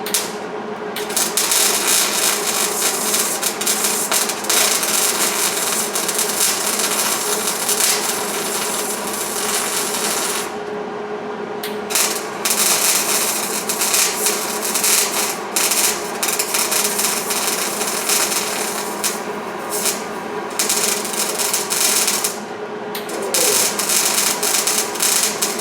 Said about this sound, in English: We're getting her welded up.